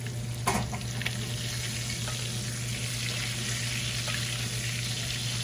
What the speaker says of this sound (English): that is bubbling and sizzling when you're spritzing it on there